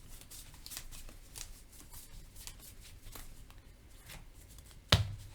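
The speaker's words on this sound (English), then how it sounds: "Four cards were discarded." Playing cards from a Buffy Legendary deck-building game being discarded, making soft papery flicks and slides close by, with a sharper slap of cards near the end.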